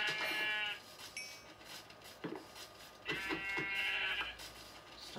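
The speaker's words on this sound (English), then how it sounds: "There's the sheep." Sheep in a blocky survival video game bleat in several loud, close cries, with a short gap and then a longer drawn-out bleat, over faint background noise.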